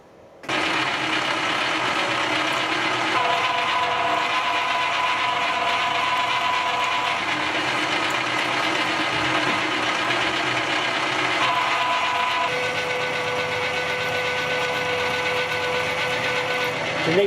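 A new 13/64 drill bores a hole through a workpiece, a steady, loud mechanical whine with shifting tones running continuously for the whole stretch, with no talking.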